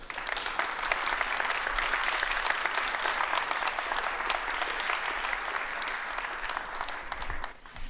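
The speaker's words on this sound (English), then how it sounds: "That was your applause." Audience applause at a conference stage event, with a large crowd clapping in a dense, steady roar that holds for several seconds before tapering off.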